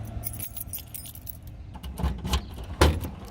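A bunch of car keys for a restored 1968 Plymouth Barracuda jangles and clinks in a few bursts, close and fairly loud, with the louder shakes coming near the end and no talking.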